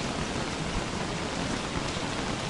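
Steady, dense rainfall in the Don't Starve video game during a rain of frogs, a loud even hiss of drops with no breaks or voices.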